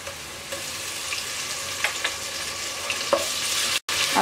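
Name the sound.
ginger and garlic being stirred and fried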